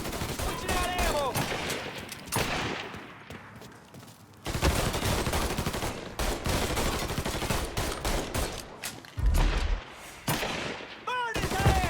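Rapid gunfire in Mafia 3, dense bursts of shots crackling over several seconds with brief pauses, loud and close, with game voices heard at moments.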